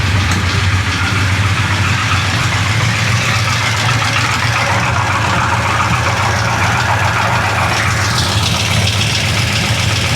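A big-block Chevy 427 V8 idles steadily after settling down, a loud, continuous low rumble with even mechanical clatter, close to the microphone.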